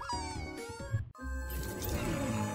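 Two drawn-out meows, close and fairly quiet, with a short gap between them and a faint background hum.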